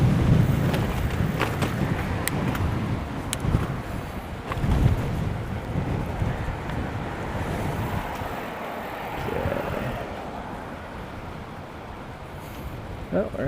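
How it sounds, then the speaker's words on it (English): Wind gusting on a bike tour in South Korea, a loud continuous buffeting rush over the microphone for the whole stretch, with a voice speaking now and then. "there's the wind"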